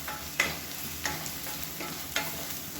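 Spice powders sauté in hot oil for a tomato salna, a soft steady sizzle broken by a few sharp scrapes of the stirring spoon.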